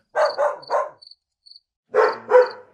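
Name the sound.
dog barking a few times in the distance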